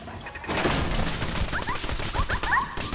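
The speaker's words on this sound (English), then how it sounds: "The old explosive round machine gun turret right next to the landmines." Explosive-round machine gun turret in Fallout 4 firing a dense, continuous burst of rapid cracking shots with blasts, loud and close for about three seconds, no talking.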